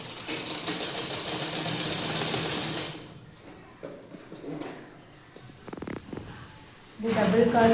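A sewing machine stitches elastic on underwear in a close, loud, rapid buzzing run, pausing midway with handling noises before starting up again, while someone talks over it in Tamil.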